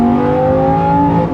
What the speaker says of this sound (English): It is intoxicating to accelerate and hear this thing roar.